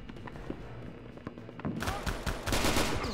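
Rapid gunfire bursts crackle in the RealRTCW remake of Return to Castle Wolfenstein during co-op play. The shots are quieter at first, then turn into dense, loud volleys over the final second and a half.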